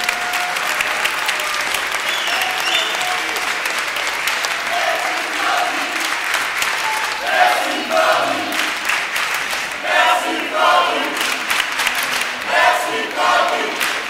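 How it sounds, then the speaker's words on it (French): Crowd applauding a presenter at a fight event, sustained loud clapping that swells with cheers and shouts partway through. "je crois qu'on peut encore l'applaudir fortement"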